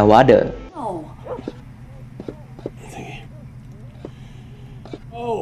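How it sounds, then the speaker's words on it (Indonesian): A dog gives a short sharp bark, then whimpers and yips faintly while people whisper and speak softly nearby. "tiba-tiba terdengar suara anjing yang menggonggong"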